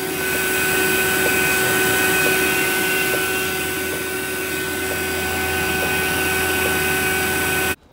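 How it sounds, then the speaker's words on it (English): An old, dead evaporator fan motor runs with a steady, loud humming drone and whine that holds evenly throughout, then cuts off abruptly at the end. "The old dead evaporator fan motor going."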